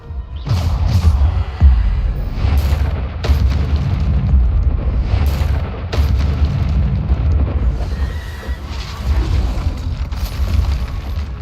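Bombarda spell blasts in Hogwarts Legacy, with loud booming explosions repeating every couple of seconds over a dense rumbling game mix.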